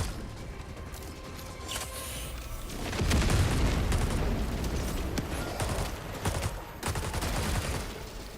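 Inside a video game, a grenade blast sets off a dense rolling rumble, followed by sustained rapid gunfire crackling and popping for several seconds, loud and close.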